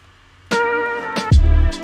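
A snare effect in a lofi hip hop beat, with a tonal harmonic sustain and sharp transient hits followed by a heavy low boom near the end, alone without talk.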